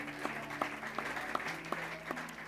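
A church congregation claps in a steady rhythm of sharp, evenly spaced claps over sustained musical tones during worship.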